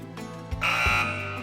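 A quiz show answer buzzer sounds once in a studio, a steady electronic tone lasting close to a second with a brief thump at its start.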